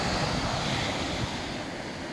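Sea waves wash against the shore at low tide, a constant rushing roar of surf mixed with wind buffeting the microphone, loud and unbroken.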